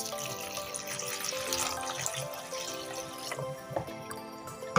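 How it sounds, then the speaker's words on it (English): Shrimp washed under running tap water in a sink for fried rice, a continuous splashing stream with drips, close and moderately loud, with no talk. "So I finished cleaning it just to wash it"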